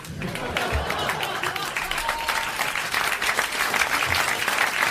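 A television studio audience applauds a game-show winner with a loud, sustained burst of clapping from a full crowd, steady throughout with a faint voice underneath.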